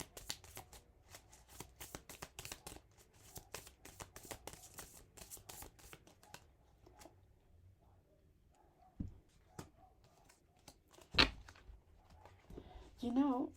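Tarot cards shuffled for a reading, with soft riffling and card slaps coming in repeated bursts, near and fairly quiet, then a few isolated taps and rustles.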